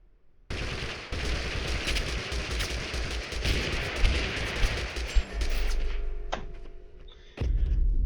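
Rapid gunfire from a shotgun and other guns in the video game Totally Accurate Battlegrounds, a dense run of loud overlapping shots and thuds that drops out briefly before resuming.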